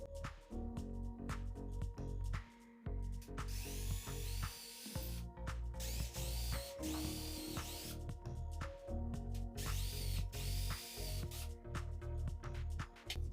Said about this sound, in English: Now you need to drill two holes in the case, first with a small drill bit